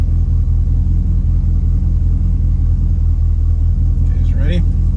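A 1968 Chevrolet Camaro SS with a 4-speed manual idles with a steady, loud low rumble and faint chugging pulses, and brief voices come in near the end.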